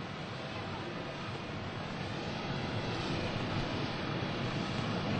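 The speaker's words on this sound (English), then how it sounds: "The 6 aircraft you are watching perform here this afternoon are Boeing F-A-18 Hornets" Six US Navy Blue Angels Boeing F/A-18 Hornet jets roar overhead at the 2002 NAS Oceana airshow, a steady, broad, loud engine rush with wind buffeting the microphone.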